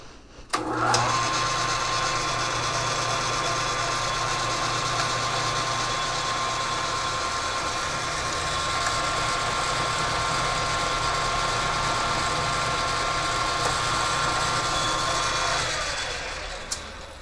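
A machine cuts down a homemade bead roller die being made for a 1949 Plymouth toe board, a loud, steady grinding whine with a thin high tone that runs unbroken for about fifteen seconds before stopping.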